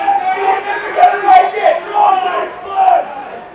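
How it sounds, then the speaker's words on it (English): A crowd at a first-grade rugby grand final roars and chants in surging waves, loud and dense, with rhythmic swells of shouting and a commentator's voice partly audible beneath. "the crowd's fired up."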